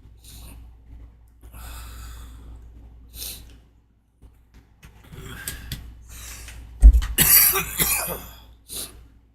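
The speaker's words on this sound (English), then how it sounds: "Oh, my cough has been super moist." Wet, phlegmy coughs burst out in a short cluster near the microphone, with scattered breathing and faint background noise around them during a Fortnite live stream.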